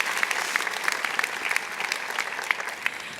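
At a university convocation, an audience gives steady, dense applause for a newly promoted assistant women's soccer coach, the clapping holding even throughout with a few sharper individual claps standing out.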